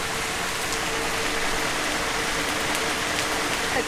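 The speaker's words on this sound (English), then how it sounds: "Anyway, it's raining." Steady rain falls in Phuket, Thailand, a dense, even hiss of drops on surfaces that stays constant and close throughout, with no voices.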